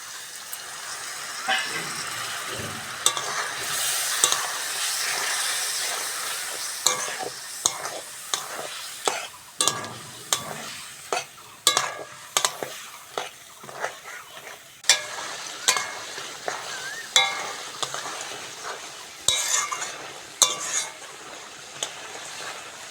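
A paste of ginger, cumin and green chili, thinned with a little water, sizzles in a pan for a vegetarian banana-flower curry while a spoon stirs and scrapes it in steady, repeated strokes, close and fairly loud, with no voices.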